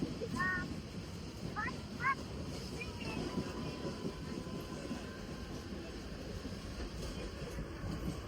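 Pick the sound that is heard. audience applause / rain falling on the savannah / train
train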